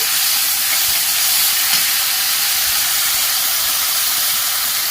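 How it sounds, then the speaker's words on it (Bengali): Onion paste with ginger and garlic paste sizzles in hot oil for a Barishal-style tel koi fish curry, a steady loud broadband hiss that holds evenly throughout with no talking over it. "পেঁয়াজ বাটা দিয়ে দিচ্ছি আদা রসুন বাটা দিয়ে দিচ্ছি"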